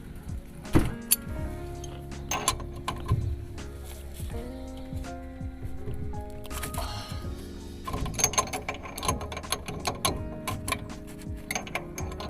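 Ratchet loosening the axle nut on a Bajaj auto rickshaw wheel at home: close, quiet clicks and metallic clanks come in uneven bursts, with scattered handling noises and no talk.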